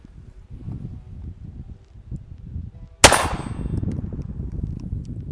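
One sharp report from an Umarex Beretta M9 .22LR pistol cracks out over low background rustling, loud and close, with a short ringing tail.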